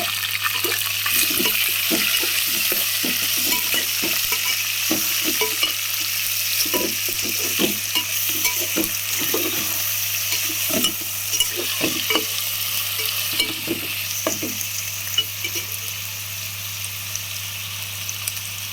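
Onions, green chillies and ginger garlic paste fry in a pan for potato pulao, a continuous sizzle broken by scraping stirs and soft clattering of the spoon, with a low hum underneath.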